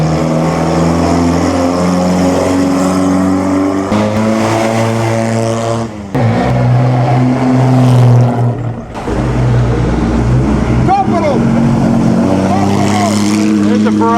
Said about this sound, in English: here's that little Fiat that looks like a Ferrari.